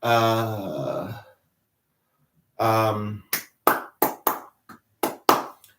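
A run of about nine sharp, separate hand claps, irregular in rhythm and close by, following two brief stretches of humming-like voice.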